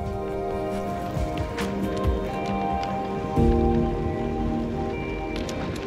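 Rain falls steadily on a forest road in the Sundgau hills of Alsace during a ride on a solar-powered bicycle, a continuous close patter with a steady tonal hum underneath and a few heavier bumps, with no talking.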